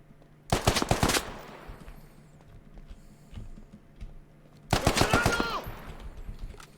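Enemy rifle fire in the Squad shooter game, two separate bursts of rapid, loud, close shots a few seconds apart with quiet ambience between them.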